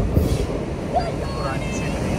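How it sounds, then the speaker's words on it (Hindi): A train arrives at a station in Interlaken, Switzerland, giving a steady rumbling roar with faint squeals over a noisy platform, while a person talks briefly nearby. "ट्रेन आ गई"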